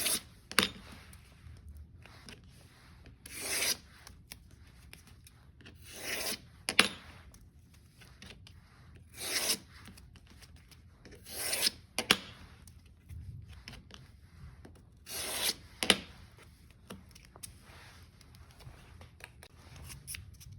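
Sharp scraping, rasping strokes at irregular intervals, with quiet rustling between them, as sandpaper is folded and scored around a wooden stick to make a sanding stick.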